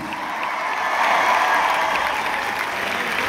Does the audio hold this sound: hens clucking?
no